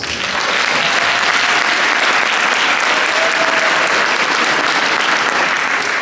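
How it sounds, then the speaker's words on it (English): Sustained applause from a large audience, steady and loud throughout, a dense wash of clapping with no pauses. "we must give them a proper round of applause."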